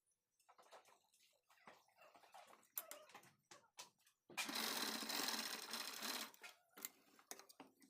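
A sewing machine runs in one steady, loud burst of stitching for about two seconds, tacking the pleats of a Paithani saree blouse sleeve, with quieter handling clicks and rustles before and after.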